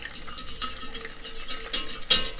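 A whisk scrapes stuck, browned madeleine batter off the bottom of a hot pan, making quick close scraping and stirring strokes with faint sizzle and a sharper metallic scrape near the end.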